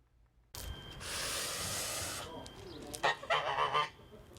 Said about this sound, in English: There's a special goose with extraordinary skills in western Taiwan.